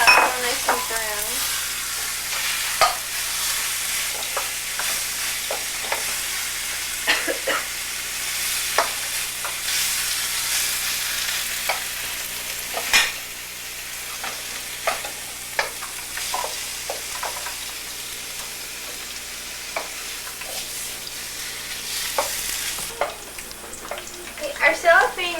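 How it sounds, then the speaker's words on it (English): Marinated ground beef sizzles steadily in a hot pan, with occasional scrapes and stirring clatters from a utensil. "Now we add our marinated ground beef. Cook that till nice and brown."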